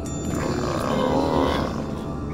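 Green monkey creatures in the video game Shadow Warrior let out a loud, sustained growling roar that swells and fades over a rumbling low background.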